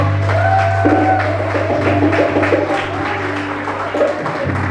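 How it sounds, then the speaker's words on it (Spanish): A church congregation claps in praise during a Spanish-language service, the applause steady and mid-distance over sustained keyboard or organ chords and a low musical drone. "Alguien que le dé un aplauso al Señor."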